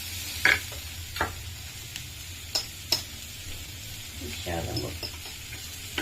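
Broccoli is stirred and sautéed in a pan, a quiet, close sizzle with occasional light clicks and scrapes of stirring, while a voice speaks briefly.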